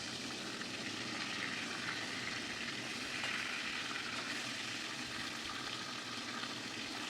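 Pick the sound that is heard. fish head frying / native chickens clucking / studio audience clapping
fish head frying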